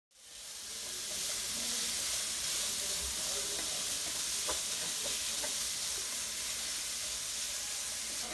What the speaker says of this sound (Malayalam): നമുക്കിവിടെ തുറന്ന് വെച്ച് തന്നെ ഇളക്കി ഇളക്കി ഇത് വേവിച്ചെടുക്കാം.